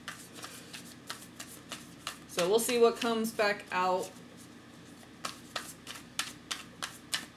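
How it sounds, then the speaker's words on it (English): Tarot cards being shuffled by hand, a rapid series of crisp riffling flicks repeating in quick bursts, close and clear, with someone briefly speaking over them partway through. "How long have I been shuffling?"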